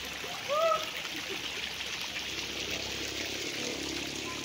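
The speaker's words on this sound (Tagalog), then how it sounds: "Bukal po yan, diretso po sa swimming pool yan." Spring water flows steadily into a swimming pool at a resort in Liliw, Laguna, a soft continuous trickle and splash, with a brief bird chirp early on.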